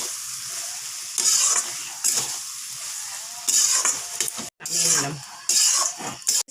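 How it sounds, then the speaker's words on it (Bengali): Onions frying in ghee in a pan for an egg and soybean dish, with a steady sizzle throughout and repeated bursts of stirring and scraping against the pan. "হালকা ঘি দিচ্ছি। একা একা পেঁয়াজগুলো আমি দিয়ে দিচ্ছি।"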